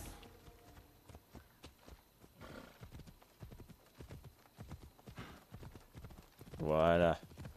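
Phobos the horse in Assassin's Creed Odyssey, steady rhythmic clip-clop of hooves at a quick pace, fairly close, under faint game ambience, ending with a loud, shrill whinny.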